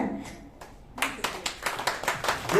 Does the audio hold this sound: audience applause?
yes